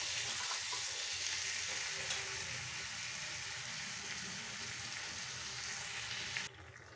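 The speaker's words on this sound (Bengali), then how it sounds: "এরপরে আমি এটাকে বেশ করে খানিকক্ষণ কষিয়ে নেব" Paneer butter masala curry with chana dal is sautéed in a pan, giving a dense, steady sizzle and frying hiss with faint stirring, which drops away abruptly just before the end.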